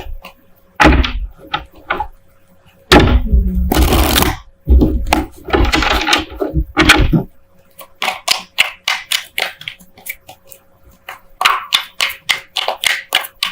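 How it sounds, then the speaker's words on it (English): Tarot cards are shuffled close by: heavy riffles and slaps at first, then a long run of quick, crisp card flicks and taps, with no voices. "while I'm shuffling"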